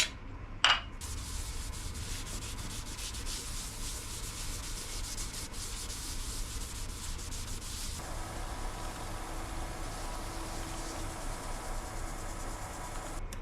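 Abrasive paste rubbed by hand onto a turned wooden snack bowl, a steady close scratchy rubbing texture running continuously after a brief sharp knock near the start, with no talk.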